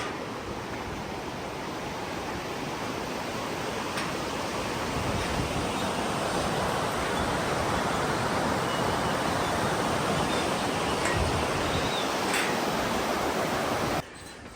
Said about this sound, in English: I hope that this microphone is picking up the sound of this water